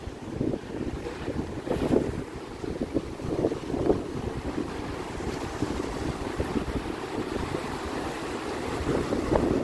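Sea wind blows at a lighthouse on the New Hampshire coast, gusting and buffeting close against the microphone over a constant wash of surf, with no one speaking.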